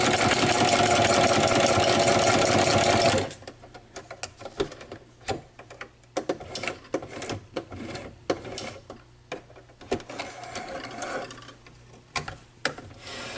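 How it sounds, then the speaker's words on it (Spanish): A sewing machine fitted with a ruffler presser foot gathers fabric, first running in a loud, continuous burst, then giving way to quieter, uneven clicks and short mechanical bursts. "Vamos a empezar a coser."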